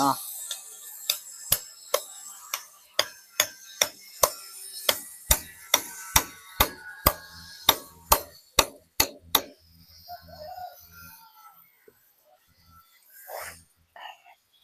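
A hammer drives a bolt through a drilled stack of books, making about fifteen sharp, ringing strikes in a steady rhythm before the hits give way to quieter handling noises.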